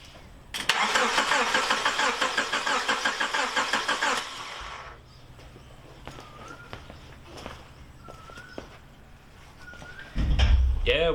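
A 1998 Honda Prelude H22 engine cranks over on the starter during a compression test, a loud, rhythmic chugging burst lasting about four seconds, then quieter shop sounds with light clinks and a brief low rumble at the end.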